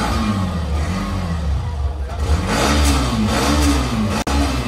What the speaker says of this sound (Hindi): हल्का सा एक्सीलरेट करना भैया